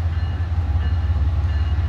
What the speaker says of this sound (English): we finally get a train